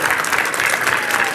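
An audience at a naat poetry gathering applauds to welcome a young boy poet, a loud, dense, sustained round of clapping that carries evenly through the short moment.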